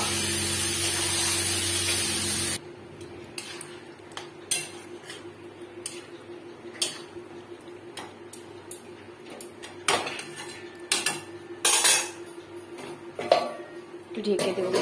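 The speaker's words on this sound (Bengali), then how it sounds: "এবার আমি লোটে মাছটা ভেজে দেবো।" Lote fish (Bombay duck) fries in a pan. A loud, steady hiss fills the first few seconds, then scattered clinks and scrapes of a utensil against the pan continue over a quieter background.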